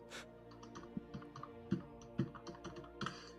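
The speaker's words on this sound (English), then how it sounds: "Again, off-screen keyboard." Typing on an off-screen keyboard, with soft, uneven key clicks in an irregular rhythm and a few louder taps, quiet and close with no voices.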